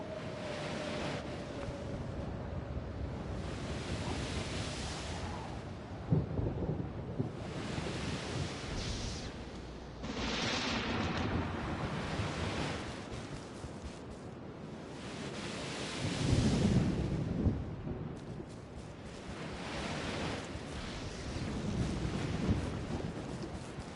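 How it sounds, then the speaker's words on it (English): Rain, rolling thunder and ocean surf around an island home set in the sea in Wizard101. A steady wash of noise swells and fades over and over, with deep rumbles rising through it. "Looks like rain, but that's to be expected with this property,"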